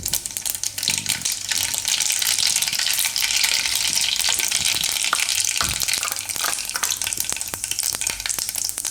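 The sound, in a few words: mustard seeds and cumin sizzling in hot oil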